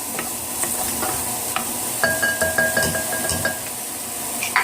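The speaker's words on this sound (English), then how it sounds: "meanwhile, the mushroom is cooking" Mushrooms cooking in a pan for a beef Wellington filling: continuous close sizzle with repeated stirring scrapes and light clinks of a utensil against the pan.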